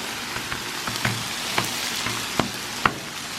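Tortillas laid down sizzling on a Blackstone griddle, an even frying hiss dotted with sharp pops and crackles, one especially loud pop near the end, with no speech.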